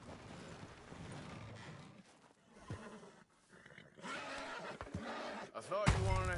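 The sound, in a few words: horse neighing in video game Red Dead Redemption 2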